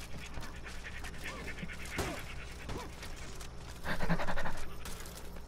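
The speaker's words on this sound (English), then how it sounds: "I like how you're just breathing." Heavy panting breaths close to a microphone during a For Honor gaming session, a steady rhythm of rough exhales under game sounds, growing louder toward the end.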